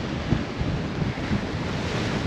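Rough sea on a sailboat running under a reefed genoa at about 8 knots: a dense, continuous wash of waves and buffeting wind noise, with surges of water rushing against the hull.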